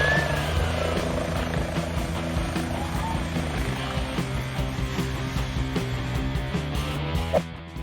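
Two police helicopters' rotors thump rapidly and steadily throughout, close and loud, with a droning engine hum underneath.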